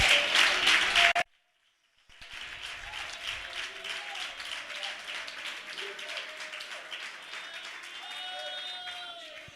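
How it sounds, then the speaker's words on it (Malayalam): Audience applause at a Malayalam church sermon by a pastor: a burst of dense clapping, a brief second of silence, then a sustained, even round of clapping from the congregation continuing steadily to the end. "നല്ലപോലെ കൈയടിച്ച്"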